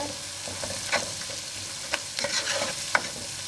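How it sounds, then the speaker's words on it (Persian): Steady sizzling of tomato paste frying in a hot pan, with a spoon scraping and stirring now and then, close and fairly loud. "تفت میدیم تا توی خامی ربمون گرفته بشه"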